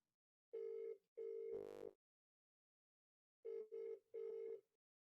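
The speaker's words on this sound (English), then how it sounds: "It's ringing." An outgoing telephone call rings back in the earpiece with two paired double-ring bursts separated by a long pause. The ring is clear and steady, with no talking.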